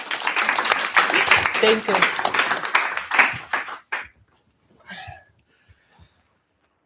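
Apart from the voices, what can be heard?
audience applauding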